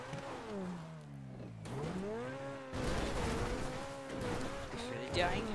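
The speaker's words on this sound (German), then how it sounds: "Gefällt dir eigentlich der Sound von deinem Auto?" Car engine in GTA V Online, revving with a falling then rising pitch and tire noise, loud and continuous with brief breaks as the car shifts and accelerates.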